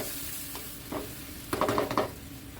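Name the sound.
coconut milk added to santol stew, stirring and sizzling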